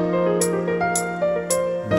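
A short jazz piano lick on the G pentatonic scale, a few quick notes over sustained chords, played clearly and alone.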